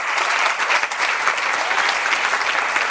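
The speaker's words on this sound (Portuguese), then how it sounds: "Aplauda o nome de Jesus" Church congregation applauding during a lively Brazilian evangelical revival service, steady dense clapping filling the space throughout, loud and close with no pauses.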